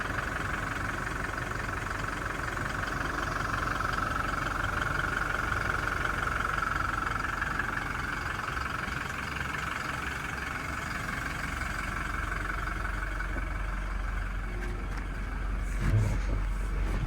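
A Toyota Hilux 2.8 liter diesel engine idles steadily at a low, even rumble, fairly close, with a faint rise near the end.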